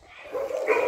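A stray dog, apparently a pit bull, gives a short whining yelp that rises into a louder bark-like cry, close and alone with no talk.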